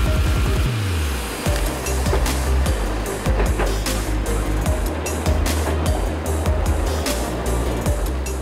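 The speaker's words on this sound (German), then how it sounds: "Die 280 PS starke Erntemaschine rodet zweireihig." Grimme Ventor self-propelled potato harvester with a 280 hp engine, two-row lifting in a field, gives a steady loud engine drone with low rumble and scattered clattering knocks throughout, close by.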